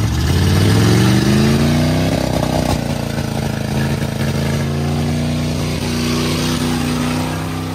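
Dodge car revving hard during a one-wheel burnout, loud and continuous, with a steady roaring engine note and tire noise close to the listener throughout.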